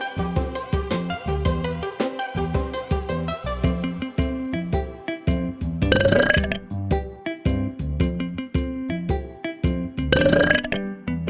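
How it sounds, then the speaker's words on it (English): A human burps twice, each a loud, rough belch spaced a few seconds apart, set against cheerful, constant background music. "The sound of burping."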